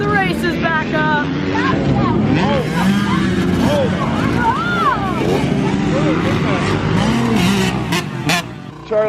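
Motocross race bikes rev and scream around a muddy track at Calhoun, engines rising and falling in pitch as several pass by, loud and continuous beneath people talking.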